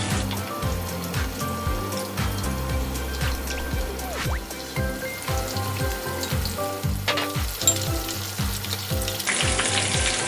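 Loud, continuous frying sizzle with repeated scraping and clattering of a utensil against a pan while making a rolled egg omelette, close by, lasting throughout with no voices.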